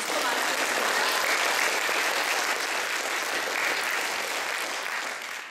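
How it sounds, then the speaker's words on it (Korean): An audience at a youth speech contest applauds the judges, a loud, continuous wall of clapping that holds steady and eases slightly at the end. "박수 한번 쳐드리세요"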